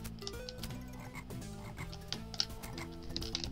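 Frogs croaking in The Lion King video game: rapid croaks layered over bouncy game music, with small sharp effects near the end, moderately quiet and steady.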